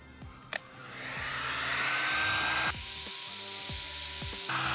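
Heat gun warming adhesive plugs on a Sprinter van roof, a steady close whooshing blower that swells after a click and runs continuously with a slight shift in tone midway.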